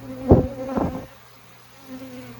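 Honeybees buzzing near a Layens hive, two close buzzing passes in quick succession, then a faint hum trailing off.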